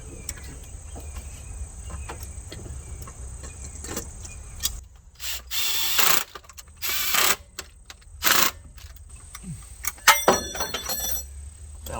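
Ratchet wrench putting spark plugs back into the engine of a 1967 Chevrolet C50 truck, with short bursts of clicking ratcheting separated by pauses, close and moderately loud over a quiet outdoor background.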